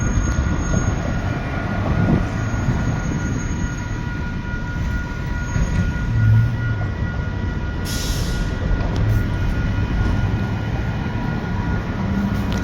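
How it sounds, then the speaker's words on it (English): An Illinois Central lumber train rumbles past at close range, carrying a Grand Trunk Jeep, in one continuous, loud roar of rolling cars with faint clickety-clack and no break. "The Illinois Central lumber train came through with a Grand Trunk"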